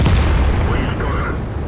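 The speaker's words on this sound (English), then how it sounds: "So we can quickly turn our tank and shoot on him" Tank cannon shots in World of Tanks, played as the SU-122-44 tank destroyer, land as loud booming blasts over a dense rumbling battle backdrop, with a voice speaking over them.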